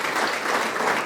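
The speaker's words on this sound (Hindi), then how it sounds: "हर बच्चे के जवाब में ताली बजना चाहिए।" Schoolchildren applaud at a school traffic-safety talk, a dense, steady burst of many hands clapping together, loud and close, with no pauses and no talk over it.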